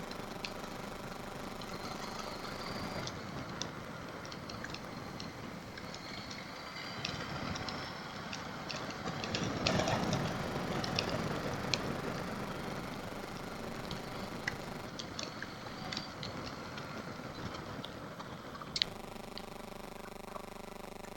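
A KTM 890 Adventure R motorcycle rides along back roads, its engine droning steadily beneath wind buffeting, fairly quiet and continuous, swelling slightly in the middle before settling back down.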